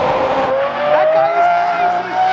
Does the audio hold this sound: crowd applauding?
no